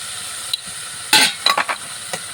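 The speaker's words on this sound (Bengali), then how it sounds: "মশলাটা একটু কষিয়ে দিব" Spice masala fries in oil in a pan while a spoon stirs it, with a steady low sizzle under several sharp scraping strokes against the pan, close up and without talk.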